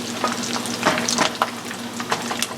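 Mackerel croquette patties sizzle steadily in a hot pan, a continuous close crackle with scattered sharper pops and spatters.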